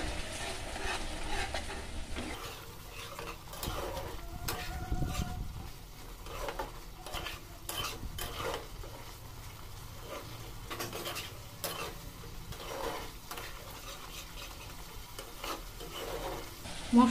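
Spice paste for Bengali pabda fish curry cooks in a pan with a little added water, a steady soft sizzle under repeated scraping and stirring strokes of a spoon against the pan, close by.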